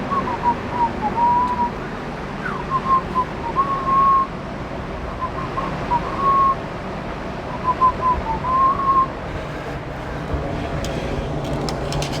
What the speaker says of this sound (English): I whistle when I work